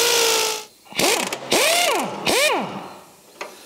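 Wrench ratchet loosening rusty bolts on an old truck's side step and outrigger, close and loud, with a grinding strain followed by several bursts of clicking strokes and pauses between them.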